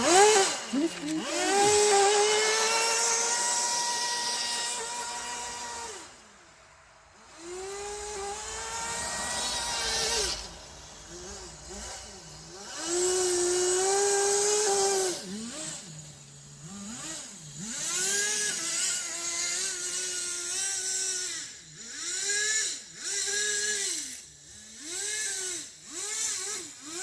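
Kyosho Blizzard nitro RC vehicle with a two-speed setup, its small engine buzzing and screaming, revving up and down repeatedly with rising and falling whines, brief drops to idle, loud and close throughout, with no speech.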